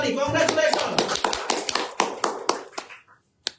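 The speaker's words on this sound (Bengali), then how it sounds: "তো শাওন তাহসিন ভাইয়ের জন্য হবে একটি করতালি" A quick burst of applause for a giveaway winner during a live mobile-market broadcast, a dozen or so sharp, close claps that slow and thin out before stopping, with voices underneath.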